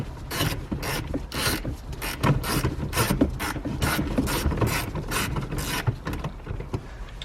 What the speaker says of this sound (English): So it's a size 13 to be able to loosen and remove those.